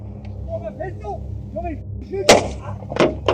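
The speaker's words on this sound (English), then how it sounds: "a gunshot rang out, prompting Westlake and his passenger to react in shock" A sharp, loud gunshot during a roadside confrontation, caught from inside a car on a dashcam, with further sharp impacts after it and excited voices around it.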